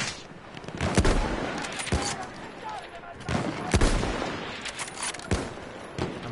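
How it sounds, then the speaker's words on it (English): Bursts of gunfire from a Battlefield 1 match, sharp cracks and short volleys repeating every second or so against a busy battlefield din, with a player speaking over the shooting. "I'm providing suppressive fire."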